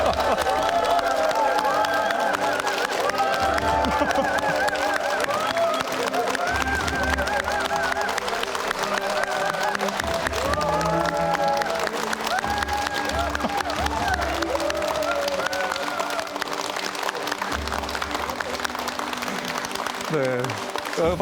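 A town-hall audience in Boseong County, South Korea, gives sustained applause with cheering as an official is welcomed onstage, dense steady clapping filling the hall for about twenty seconds without letup.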